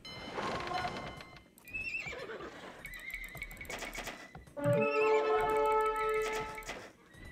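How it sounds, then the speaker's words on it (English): Horses in Age of Empires 2 neigh and whinny repeatedly over clip-clopping hooves, several loud calls layered in a busy, continuous stretch. "I plan on unleashing this army of horses"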